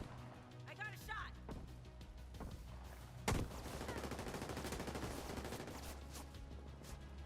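Gunfire in The Division 2 on realism mode, with a sharp loud shot standing out amid dense rattling bursts and background game noise, voices talking over parts of it.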